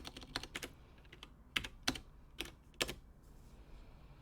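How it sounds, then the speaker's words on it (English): Sparse keystrokes on a computer keyboard, a handful of quick taps in small clusters with pauses between, close and fairly quiet in a still room. "I'm just going to type that in."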